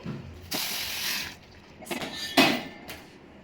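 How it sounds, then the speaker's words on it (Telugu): Boiling water is poured into semolina cooking for ravva kesari, making bursts of gushing, hissing sizzle with a clatter of the pan between them, close by and without talk. "బాగా బాయిల్ అయిన వాటర్ ఏదైతుందో ఇందులో కలిపేద్దాం"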